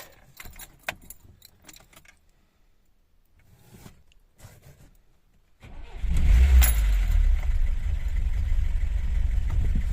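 A VAZ 21063 car engine cranks and catches after a few seconds of quiet jangling and handling, then settles into a loud, steady high idle that runs to the end.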